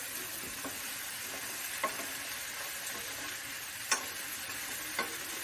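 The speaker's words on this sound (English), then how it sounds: "So I'm just going to give that a quick toss, a little stir." Fresh vegetables sizzle steadily in a frying pan for a weeknight curry, with a constant hiss broken by a few sharp ticks and scrapes as they are tossed and stirred.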